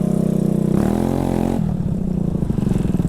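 A scooter with about 25,000 miles on it rides along, its exhaust note a loud, close, buzzing drone that shifts pitch as it revs, then settles into a steady pulsing throb.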